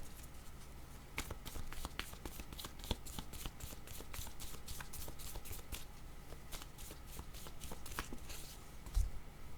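Picture cards are drawn and shuffled in a quiet room, a faint, steady series of soft rapid flicks and papery riffles with one small thump near the end, and no voices.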